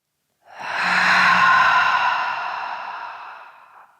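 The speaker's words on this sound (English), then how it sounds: "Deep inhale. Exhale." A single deep, drawn-out breath during a strong vinyasa yoga session, close and clear, swelling quickly and then slowly fading out like a long sigh, with no talking.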